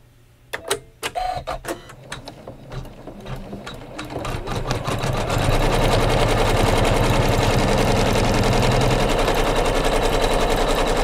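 An embroidery machine stitches a large rectangle to tack down the fabric for a pieced flag block, starting with a few separate clunks and then settling into a loud, rapid, continuous needle hammering close by.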